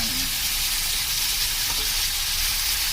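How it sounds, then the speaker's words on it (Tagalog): Pork pieces frying in a pan for pork steak, giving a loud, steady, close-up sizzle that runs without a break and without voices over it. "Iprito muna natin yung pork para maganda yung kanyang texture."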